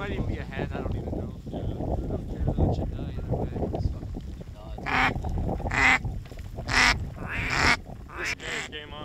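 Mallard ducks quack and call during a snowstorm duck hunt, several loud bursts in the latter half over steady wind and rumbling noise.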